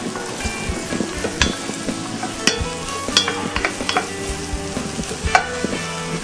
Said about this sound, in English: So a little more extra virgin olive oil to get them sauteing again